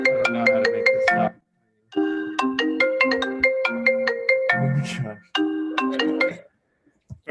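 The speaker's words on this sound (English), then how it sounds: "Phone's ringing off the hook." A phone ringtone plays loudly in a bright, repeating melodic pattern, pausing briefly between rings and then starting again, with no talk over it.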